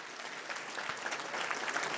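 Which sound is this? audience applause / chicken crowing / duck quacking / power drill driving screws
audience applause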